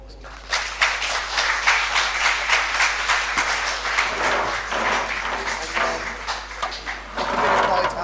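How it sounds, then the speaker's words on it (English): An audience at a student election question time applauds the president and candidates, clapping that starts after a brief quiet moment and continues as a dense, steady round to the end. "Give a round of applause again."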